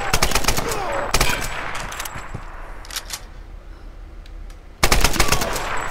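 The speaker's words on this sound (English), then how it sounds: "they're both shooting at me at the same time" Enemy automatic gunfire in the Tomb Raider video game, with two shooters firing at once: a loud rattling burst at the start, scattered quieter shots in the middle, then another dense burst near the end.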